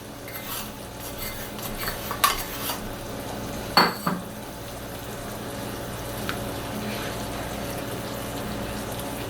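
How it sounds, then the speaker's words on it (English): A spoon stirs roux into simmering liquid in a pot, a few sharp metallic clinks and scrapes standing out over a steady low bubbling hum, with no talking. "Now I'm going to take that roux that I made and I'm adding that back in."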